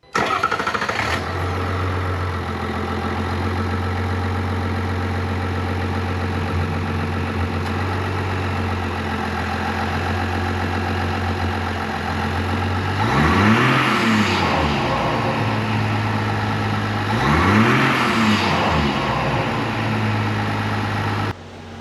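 A heavy Duramax diesel truck engine with a PPE Zilla pipe and S&B intake cranks and catches, settling into a low, rumbling idle, then revs up twice in strong surges before dropping back to idle.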